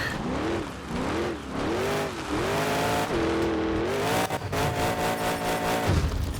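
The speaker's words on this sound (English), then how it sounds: "One thing I do like is how you can rev the engine." A monster truck engine in the video game Monster Jam Showdown revs up and down repeatedly in rising and falling surges, loud and close, with no talking.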